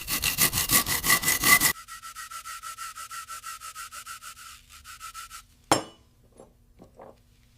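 Brushes scrub rust and dirt off the metal parts of a Colt M1911 pistol. Quick, rhythmic scraping strokes start loud, continue more softly, then stop after a sharp metallic clink and a few faint taps.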